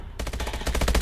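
Rapid automatic gunfire from a full magazine being emptied in Call of Duty: Advanced Warfare, a quiet beat, then a loud, steady rattle of closely spaced shots that grows denser toward the end.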